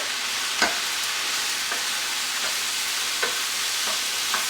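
Mushrooms and leeks sizzle steadily in a pan while a utensil stirs them, giving a few distinct scraping strokes over the constant frying hiss.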